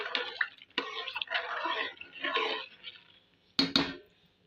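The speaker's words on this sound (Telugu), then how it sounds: "ఒకసారి నాలుగు పక్కల అయితే బాగా కలిపేసుకోవాలి" Khichdi ingredients being mixed in a pot, coming as several rough scraping, clattering bursts close up, with a short pause before a sharp final clank.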